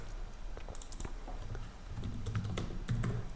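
Rapid clicking of keys on a computer keyboard, irregular bursts of taps growing slightly denser toward the end, close and fairly quiet.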